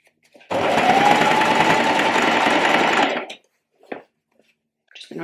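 Close and loud, a sewing machine runs for about three seconds as it stitches the seam of a shirred top, a steady mechanical whir that stops abruptly, followed by a couple of small handling sounds.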